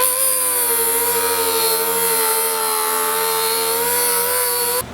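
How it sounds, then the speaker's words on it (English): Air grinder spinning a flap wheel sanding disc against a cut metal edge on a 5th Gen 4Runner, a loud steady high-pitched whine with grinding hiss that holds for about five seconds, then cuts off abruptly. "I'll come back with a flap wheel sanding disc. This one's on an air grinder."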